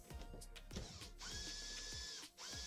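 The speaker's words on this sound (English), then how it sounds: "This is a 10mm bit on the drill to remove this stator." Power drill fitted with a 10mm bit working on the stator of an LG washing machine, a whirring motor run in short bursts with brief stops, close and fairly quiet.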